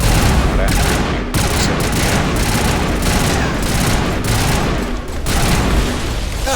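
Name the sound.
gunfire in the Mass Effect video game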